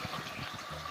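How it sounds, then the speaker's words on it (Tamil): Water is poured into a pot of rice and lentils for cooking, a fairly quiet, continuous gushing and splashing with a soft low burble underneath. "அப்போ 3 சேர் தண்ணி ஊற்றணும் ஃப்ரெண்ட்ஸ்."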